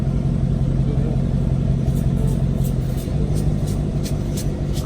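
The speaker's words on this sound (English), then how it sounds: "But you can hear my car idling." A straight-piped 2016 Dodge Charger R/T idles nearby with a steady, loud low rumble and constant drone, with no speech over it.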